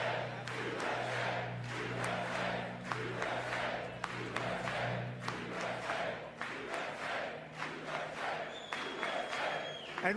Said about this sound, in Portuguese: Gritos se misturam, há algumas vaias e os republicanos se levantam e dizem USA